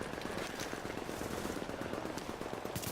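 A turret fires in the video game The Division, rattling off continuous rapid automatic gunfire that stays steady and dense throughout with no pauses.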